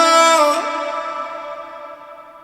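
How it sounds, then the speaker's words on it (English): A sung vocal phrase in Logic Pro X with reverb applied ends on a loud sustained note, then a long echoing tail lingers and slowly fades over a couple of seconds. "And then I can choose how much reverb I want."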